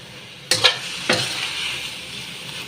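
Eggplant frying in a pan with soy sauce gives a steady hiss, broken early by two sharp bursts of sizzling and stirring before settling back into an even, close sizzle with no talking.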